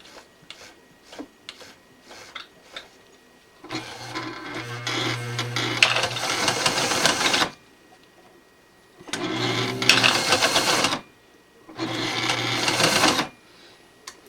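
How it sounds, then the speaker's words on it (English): A sewing machine stitches camouflage fabric in three loud, sustained bursts of rapid mechanical running, separated by pauses; faint hand-cranked ticking comes before the first burst. "if you had a more modern sewing machine, you could do a little bit more with it"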